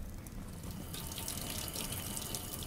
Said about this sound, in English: Gotta clean the sink.